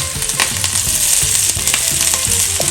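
Galawati kebabs frying in hot oil in a Lucknow-style home kitchen give a loud, steady sizzle with crackling pops and occasional stirring or flipping scrapes, with no talking.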